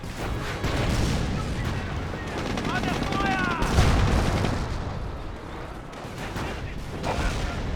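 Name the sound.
grenade explosions and gunfire in Company of Heroes video game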